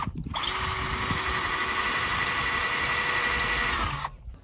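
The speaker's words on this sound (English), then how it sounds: "pre-drilled all the attachment holes" A power drill pre-drilling holes for RV rooftop attachments whirs steadily for about four seconds at high speed, close by, then stops, leaving quiet background noise.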